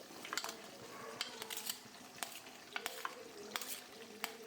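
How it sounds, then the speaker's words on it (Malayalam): Gooseberries mixed into amla pickle masala in a pan, with soft scraping strokes and sharp clicks of a spoon against the pan, quiet and close. "നെല്ലിക്ക ചേർത്ത ശേഷം നന്നായിട്ട് മിക്സ് ചെയ്യുക"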